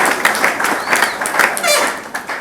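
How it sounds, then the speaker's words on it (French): An audience claps for the youth at an installation ceremony for youth members, a dense, fairly loud patter of many hands filling the room, with voices murmuring underneath. "On peut applaudir pour la jeunesse, s'il vous plaît."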